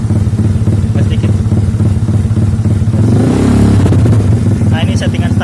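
A fuel-injected Yamaha Mio motorcycle engine tuned with an Apitech ECU idles with a steady low rumble and then revs up in a short throttle blip, close and loud, with voices talking over it.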